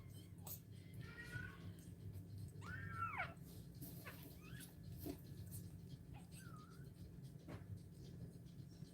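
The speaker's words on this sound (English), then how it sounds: "Not a big meow, but still a meow." A cat being tube fed lets out a few weak, thin meows spread across a quiet room, with a low steady hum underneath and occasional soft speech nearby.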